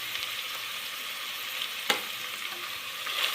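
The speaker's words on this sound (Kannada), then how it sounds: "1-2 ನಿಮಿಷ ಫ್ರೈ ಆಗ್ತಾಯಿದೆ." Capsicum and other vegetables with turmeric sizzle steadily in a pan for tomato bath, a dense continuous frying hiss with one sharp stir clack near the middle and no voices.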